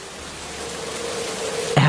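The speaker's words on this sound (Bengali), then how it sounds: "এত বৃষ্টি, বন্যা হবে না তো?" Heavy rain pours over a village during a windy storm, a steady dense hiss that stays even throughout before a brief louder thump at the very end.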